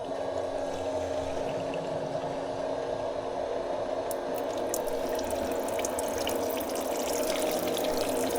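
Rinse liquid from a TCMATIC ACE23 flushing station pours steadily into a 0BK automatic gearbox, a continuous watery rush like a running tap, with faint dripping and splashing toward the end and no talking.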